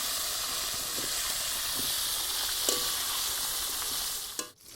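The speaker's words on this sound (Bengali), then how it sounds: "একটু নেড়েচেড়ে মিশিয়ে লবণ হলুদের সাথে একটু লাল লাল করে ভেজে নেব।" Potatoes frying with salt and turmeric for a Bengali mutton kosha, giving a steady close sizzle and hiss with occasional stirring clicks, then a brief bump near the end.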